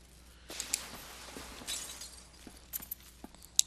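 Glass shatters in Batman: Arkham Knight as a window is smashed rather than cut, a loud crash followed by scattered tinkling shards and a few sharp clinks near the end.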